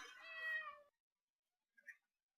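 A cat meows once in a video game, a drawn-out tonal call followed after a pause by a brief faint chirp, otherwise quiet.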